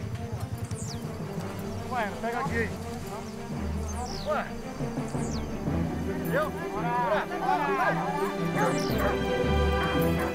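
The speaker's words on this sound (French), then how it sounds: "Les chiens sentent tout près d'eux à présent l'odeur de Lenda qui les surexcite." Excited hunting dogs on the trail of a jaguar bark, yip and whimper almost continuously, several animals loud and close, amid rustling movement with voices now and then.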